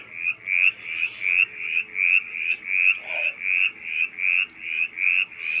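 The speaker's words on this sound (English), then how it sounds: "the mountain chorus frog is calling" A mountain chorus frog calls in a steady series of about fifteen rising, raspy trills, each under a second long, repeating evenly and close by with no talk.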